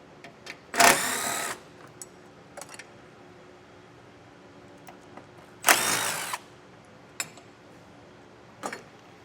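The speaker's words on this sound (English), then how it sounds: "there's going to be a couple of bolts we'll have to remove. I'm using a 10mm socket." A 10mm socket wrench clicks as bolts are worked loose from a vehicle base plate mounting, giving two short ratcheting bursts with scattered taps and small clicks in between, close and fairly quiet.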